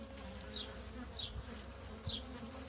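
Honeybees buzz faintly around an opened hive, a low continuous hum with a few brief higher chirps rising above it and no talking.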